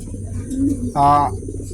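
A single American Saint pigeon coos once, a soft throaty call close by, against a low background murmur.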